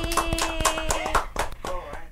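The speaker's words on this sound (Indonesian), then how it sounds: "tepuk tangan untuk dosen PI" A few hands clapping for the lecturers on an Indonesian talk show, sparse distinct claps over music or tones in the background.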